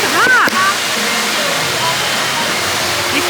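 Broad steady rush of flowing water fills the air at Disneyland Paris, constant and fairly loud, with people's voices and crowd chatter mixed over it near the start.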